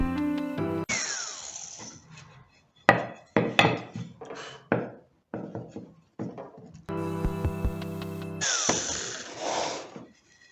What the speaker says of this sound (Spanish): Voy a ocupar una broca de media para hacer los barrenos en las 4.